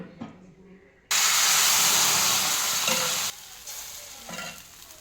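A spicy garlic-greens batter lands on a hot oiled griddle and bursts into loud, steady sizzling and frying hiss. A quieter clatter comes before it, and the sizzle then drops to a softer crackle.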